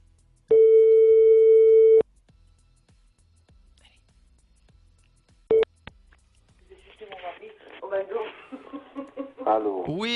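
A single steady phone line tone sounds for about a second and a half during a prank call, followed by a short beep, then someone talks quietly over the line.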